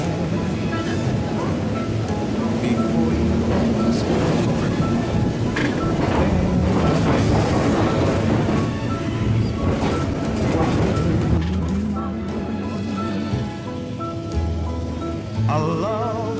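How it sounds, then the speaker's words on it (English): A Brush electric tram rolls along the Hill of Howth line with a continuous rumble and clatter of wheels on rail, moderately loud and steady, with music playing over it. "a boat can be seen out to sea as the tram passes by"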